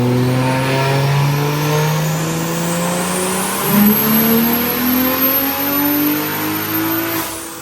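A BMW 340i fitted with a big turbo revs hard on a dyno, its loud engine note climbing steadily in pitch through a sustained pull, with a brief hitch midway before it winds on up.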